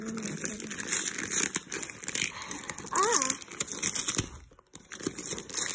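A taped Christmas package is unwrapped up close, with crinkling paper and sharp tearing bursts, followed by a brief quiet gap before the rustling resumes.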